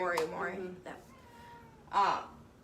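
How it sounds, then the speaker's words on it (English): A cat meows a few times in short, fairly close calls, with a person speaking briefly at the start. "You may hear a cat in the background."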